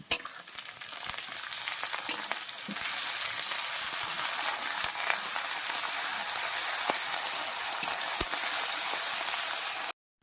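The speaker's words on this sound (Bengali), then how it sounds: "তো আমাদের আদা রসুন হয়ে গেছে ভাজা" Ginger garlic paste with onions, dried chillies and cumin frying in a pan for an egg curry, a steady close sizzle with small crackles running evenly throughout and no talk.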